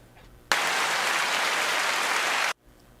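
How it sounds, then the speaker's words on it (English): Applause switches on abruptly, holds a dense, even wash of clapping for about two seconds, then cuts off sharply into quiet room tone. "There's the applause."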